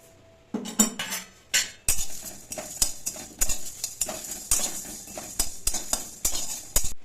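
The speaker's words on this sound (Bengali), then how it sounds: "মশলাগুলোকে একসঙ্গে কড়াইয়ে ভেজে নেবো" Spices are stirred and tossed in a dry wok, a utensil scraping and clinking in quick repeated strokes, close up, with a faint sizzle between.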